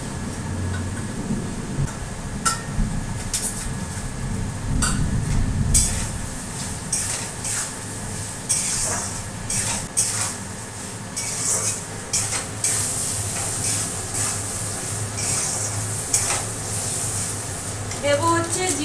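Fried rice and potatoes being stirred in a pan, with steady scraping and light sizzling over a busy background of kitchen clatter and occasional ticks, moderately close throughout.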